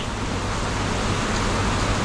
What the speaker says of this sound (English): Look at that rain though, it's crazy.